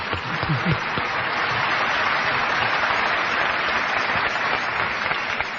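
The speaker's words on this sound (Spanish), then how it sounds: "Hay que aplaudir a Albert Camus, por favor." A live radio-show audience applauds steadily and loudly throughout, a dense continuous wash of clapping with faint crowd murmur beneath.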